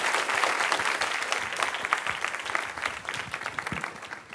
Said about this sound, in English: let's thank Lorenza and the rest of the speakers in this morning session.